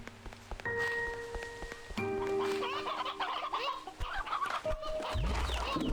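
Chickens cluck in the video game Slime Rancher 2 over steady game music and ambience, with scattered short clucks and squawks running through the full stretch at moderate loudness.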